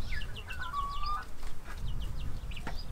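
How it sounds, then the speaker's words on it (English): Farmyard roosters and chickens on a Portuguese smallholding, a run of short chirping calls and one drawn-out tonal call over a steady low outdoor rumble, moderately near. "we've got these two roosters"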